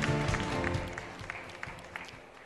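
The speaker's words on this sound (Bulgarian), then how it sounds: "Аплодисменти за Станимира Петрова и Теодосий Теодосиев." Applause from the audience at a Bulgarian athlete-of-the-year ceremony, a short burst of moderate clapping that fades over a couple of seconds amid background hall noise.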